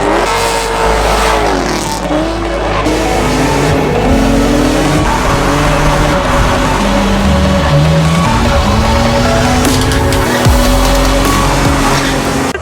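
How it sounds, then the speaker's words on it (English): A drift car at a night pro-am drifting competition in Colorado revs hard and skids, its engine note rising and falling continuously between loud tire squeals, close and with no voices. "I've never been night drifting before."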